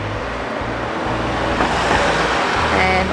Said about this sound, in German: Ein Auto.